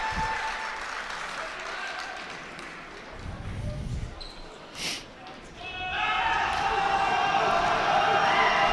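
Crowd noise in a college basketball gym during a men's championship game free throw: a roar of cheering and clapping that dips, lets through a brief sharp whistle-like cry and a ball bounce, then swells again loudly near the end.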